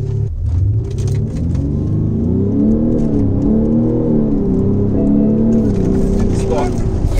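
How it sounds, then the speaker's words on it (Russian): A chipped BMW X5 M50d E70 diesel SUV accelerates at full throttle, its engine droning loud and close as the pitch climbs steadily in one long pull, with faint rustle on top. "за сколько этот автомобиль разгоняется, если нажать газ в пол"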